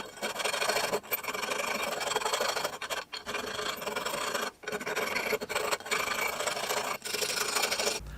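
Grinder working scrap metal for a mini C-clamp, a steady, close rasping scrape that runs almost continuously with a few brief breaks, no voices over it.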